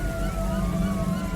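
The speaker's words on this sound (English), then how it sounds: "Somehow over the hill came the sound of sirens and red and blue lights." Police sirens wailing, a steady loud rising and falling tone over low traffic rumble, heard briefly and continuously.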